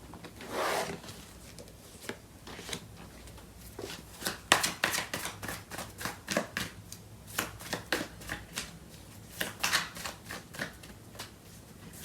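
Tarot cards being shuffled close up, a run of soft rapid flicks and slides in uneven bursts, fairly quiet and unaccompanied by talk.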